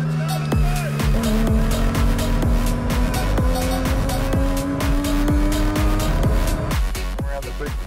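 A race car on a track revs hard through a big corner, its engine note rising and falling sharply with repeated gear changes and some tire squeal, loud and close, with a voice in the background.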